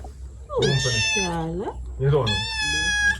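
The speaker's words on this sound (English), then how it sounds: "Village kitty." Village cat in Africa meowing twice, close and loud, with long harmonic-rich calls separated by a short pause, alone without any talk over them.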